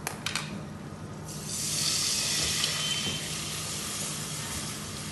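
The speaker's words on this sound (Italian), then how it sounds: "una volta che l'aglio è rosolato andiamo ad aggiungere la metà del brodo" Broth is poured into a pan of spaghetti and browned garlic, setting off a burst of sizzling and bubbling after a few light clinks, then settling into a steady simmering hiss; no one talks.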